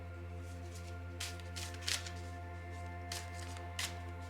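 Lenormand cards shuffled and drawn by hand, several short crisp riffles and slides standing out faintly above a steady hum in a quiet room.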